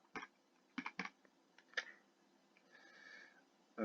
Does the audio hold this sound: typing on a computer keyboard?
yes